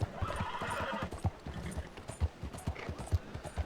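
Horse hooves clip-clop at a steady trotting rhythm through a bustling market town in Red Dead Redemption 2, close and clear, with a horse's whinny rising early on.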